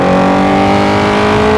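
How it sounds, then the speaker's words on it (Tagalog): Honda CBR1000RR-R Fireblade SP sport motorcycle exhaust revving up close, a loud, steady high-pitched engine note held for under two seconds with no talk. "exhaust sound"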